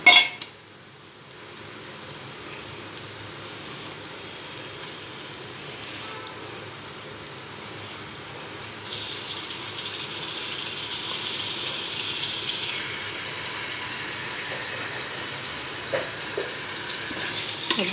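Meat frying in a pot for gosht taheri, a steady low sizzle running throughout that grows brighter and louder partway through, with occasional light clinks of stirring.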